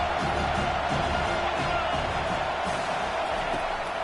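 A stadium crowd at a football game roars and cheers on a big third down, a dense, steady wash of voices filling the whole stretch without pause.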